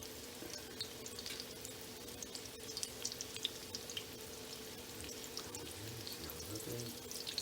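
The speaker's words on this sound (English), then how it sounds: "This is called pan frying. See, I got a lot of oil in the pan" Steady sizzling and crackling of chicken pan-frying in a good amount of hot oil in a pan, continuous with small pops throughout, no talking.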